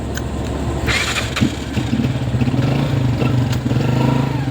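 Passenger shuttle vehicle engine cranking and catching, then running at a steady idle with a low drone and some clatter, set against busy outdoor background noise at a transport terminal.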